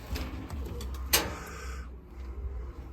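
Pigeons in a breeding loft, a few soft low coos over faint rustling and clicks, close by and quiet, with one sharp brief knock in the middle.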